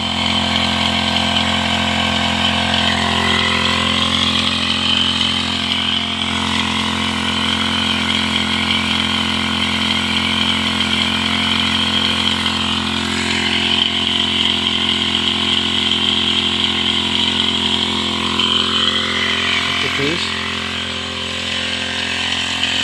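Petrol engine sprayer pump running steadily while spraying litchi trees, a loud, close, continuous droning hum that holds constant throughout with no voices over it.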